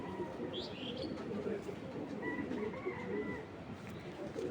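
Giribaz pigeons cooing softly in a loft, low repeated coos over a steady background hum with occasional chirps, no speech.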